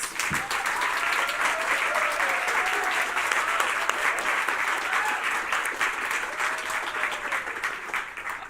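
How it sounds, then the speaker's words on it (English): Sustained applause from an audience at a peace-themed school event, steady dense clapping for several seconds with a faint tonal voice or whistle drifting through. "Let's give them another round of applause."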